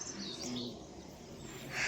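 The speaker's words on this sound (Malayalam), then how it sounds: "തണുപ്പ് ഉള്ള സ്ഥലങ്ങളിൽ ഉണ്ടാകുന്ന പ്രത്യേക തരം പക്ഷികളൊക്കെ ഒന്ന് കൊത്തൂലേക്കും." Faint, distant mountain birds call a few times on the Everest Base Camp trek in Nepal's Solu Khumbu, thin chirps half-buried in steady outdoor wind and ambient noise.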